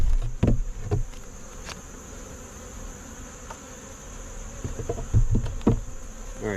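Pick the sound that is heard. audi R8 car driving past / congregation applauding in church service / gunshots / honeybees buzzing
honeybees buzzing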